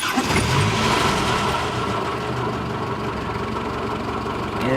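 A car engine cranking and catching, then settling into a loud, rough, steady idle close by with a knocking rattle, no talking.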